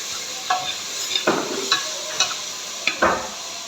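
Tomatoes sizzle steadily in a hot pan while a utensil stirs them in several distinct scraping strokes, close and fairly loud over the continuous frying hiss.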